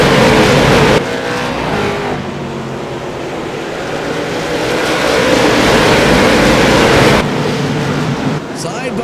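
Race cars in a sim racing game at Lanier National Speedway howl past at a restart after the green flag, a loud, dense engine roar swelling and shifting throughout.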